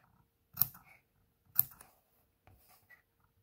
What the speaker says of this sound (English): we're just clipping that curved seam